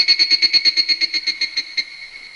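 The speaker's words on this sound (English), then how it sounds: "Cicada." A cicada's song as a quick series of about fourteen sharp, shrill, buzzing chirps in a steady rhythm, close and clear, slowing slightly before stopping.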